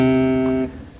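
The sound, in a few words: bass guitar pull-off sounding lower note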